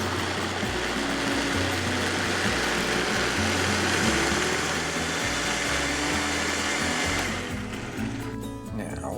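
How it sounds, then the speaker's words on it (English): A blender purees toasted pumpkin seeds in a kitchen, a loud, steady whirring roar with pulsing low motor pitch shifts, easing slightly in the final seconds. "put the blender jar back on the base, and we're gonna blend it until we have a smooth puree"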